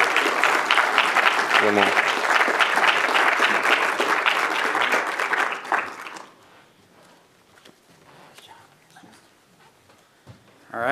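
Audience applause after a charrette presentation on the Bison Bridge design, loud and sustained for about six seconds before fading into scattered claps, with a voice speaking briefly during it.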